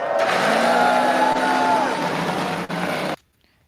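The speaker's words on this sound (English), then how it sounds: "Drivers, start your engines!" IndyCar engines at the Grand Prix of Long Beach fire up together in a loud sustained roar with rising tonal whine, holding steady for about three seconds before cutting off abruptly.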